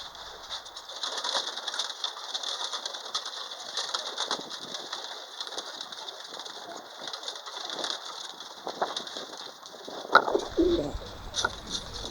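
Pigeons coo softly and repeatedly, their low murmuring calls continuing under a faint background hiss, with a brief louder knock near the end.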